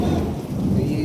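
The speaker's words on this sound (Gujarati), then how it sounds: "હજી વરસાદ ચાલુ છે, બંધ નથી." Heavy rain pours steadily after a windstorm in Savarkundla, with a deep rumble of thunder rolling underneath, loud and close for about a second.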